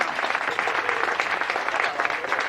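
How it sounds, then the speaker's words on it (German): An audience at a lathe night show claps briskly and continuously, a close, dense patter of many hands with slight rhythmic swells and no talking on top. "Erstmal einen Applaus für den André für die geile Technik, die er immer macht."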